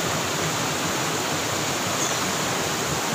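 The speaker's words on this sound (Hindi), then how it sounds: "सामने से ही पानी गिर जा रहा है" Water pours steadily at the Basistha Temple waterfall in Guwahati, a loud, dense, unbroken hiss and rush that fills the whole clip with no voices.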